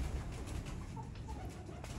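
Salara Teddy pigeons, one an aged bird, coo softly in a fancier's loft, the low calls faint beneath a steady rumbling background.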